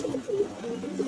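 Pigeons in a well-stocked home loft murmur in soft, low coos, a brief close-up burst of throaty bubbling calls with no voices over it.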